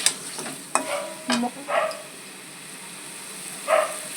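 Eggs being sautéed and stirred in a pan for a home-style egg curry, with a few short scraping and sizzling bursts spread apart over a faint background and no talking.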